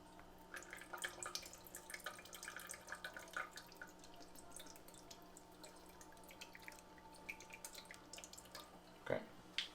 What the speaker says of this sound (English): Rinse my hand real quick. Hands got sticky already.